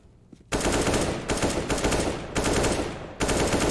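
Loud, sustained automatic gunfire in CS:GO in long bursts with brief gaps between them, dense and continuous like rapid machine-gun fire.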